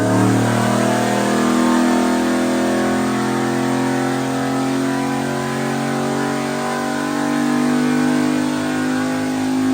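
A purpose-built drag-and-drive car's boosted engine pulls hard under acceleration, a loud, close, sustained growl rising and holding in pitch for several seconds with no voices.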